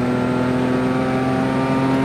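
A rally car on a Rallye Tatry 2024 special stage, the Toporec 2 run, holding a loud, steady engine drone with strong tonal harmonics, heard close from inside the car.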